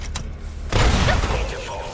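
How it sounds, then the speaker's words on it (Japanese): A prototype blowing up inside a vault in the video game Fallout New Vegas, one sudden deep boom with crackling debris that rumbles and fades over a second or so. "爆発しちゃった。"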